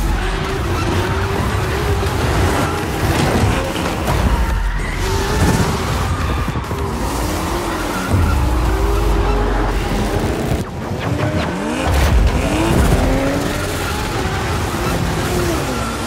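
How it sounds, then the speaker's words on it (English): Cars drift in a race, with tires squealing in wavering, sliding pitches over a constant roar of engines and road noise. The sound stays loud and dense throughout. "Suddenly he finds himself in the middle of a drift race."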